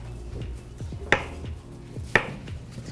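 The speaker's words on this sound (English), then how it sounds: "Look at your chopping." A knife chops through food on a board while making healthy rocky road nice cream, with two sharp, distinct chops about a second apart over a soft background hum.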